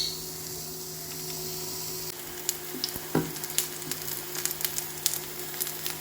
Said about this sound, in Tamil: இந்த நெய்யில் இப்போ இந்த வாழைப்பழத்தை நம்ம வாட்டி எடுத்துடலாம்